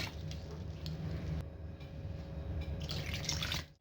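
Water is poured onto yeast in a bowl while making luqaimat dough, a soft close trickling and splashing stream with faint drips, steady and quiet with no talk.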